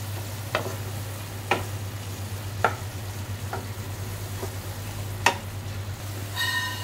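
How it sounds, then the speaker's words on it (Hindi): Spices being stirred into rajma in a pan, a spoon scraping and knocking in spaced strokes over low sizzling and a steady stove hum, close with no talk. "इसे मिला लूँगी मैं अच्छे से।"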